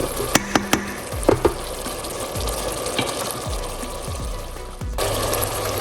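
Jamaican-style cabbage cooking in a pot gives a steady low sizzle and bubbling, with a few sharp clicks and clanks near the start and soft stirring knocks throughout.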